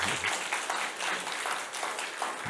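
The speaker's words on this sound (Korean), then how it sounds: "큰 박수로 다시 한번 우리 환영하십시다." Audience applause welcoming a professor to the stage at a church humanities academy lecture in Gwangju, a steady, moderately loud wash of clapping that holds for the whole stretch.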